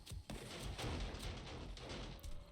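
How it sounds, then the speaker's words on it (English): SMG turrets in the 7 Days to Die video game shooting at zombies during horde night, a dense continuous rattle of rapid automatic gunfire, faint and distant-sounding, with no voices. "That is exactly what I wanted those SMG turrets for. So they're hitting the zombies that spawn"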